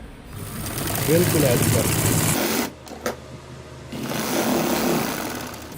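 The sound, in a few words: sewing machine stitching the edge of a kameez cuff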